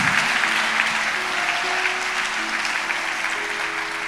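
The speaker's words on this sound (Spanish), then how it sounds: "¿Alguien le puede regalar un aplauso al Señor en esta hora?" A church congregation applauds steadily, a dense continuous wash of clapping that holds at an even level throughout.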